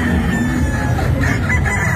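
Boston Roundhead gamefowl crowing and clucking close by, a loud steady stretch of rooster calls over dense clucking and farmyard noise.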